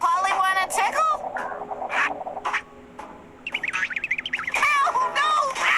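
A cartoon parrot squawks and chirps in shrill, warbling bursts while being tickled, interleaved with animated character voices talking and exclaiming.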